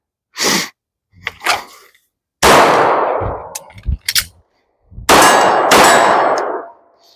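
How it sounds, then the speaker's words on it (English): Handgun shots ring off a C-zone steel target 25 yards away on an outdoor range, each loud crack followed by a bright metallic clang. Several hits come in separate bursts, with short silences between them. "we'll do 2 rounds into the C-zone steel that's 25 yards away"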